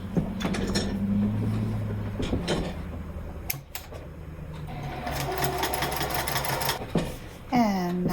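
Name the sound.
sewing machine top-stitching the edges of a fabric wallet flap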